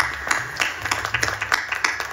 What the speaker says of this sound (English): Clap for the parents.